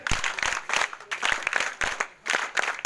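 A group at a National Service Scheme camp claps hands in a rhythmic pattern of separate sharp bursts, fairly close and moderately loud, with brief pauses between claps.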